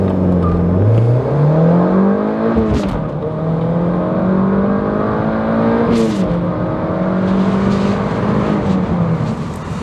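A Mazda MX-5 NC engine pulls hard on a winding road, its note rising through short gears with brief dips at each shift, loud and close from inside the car.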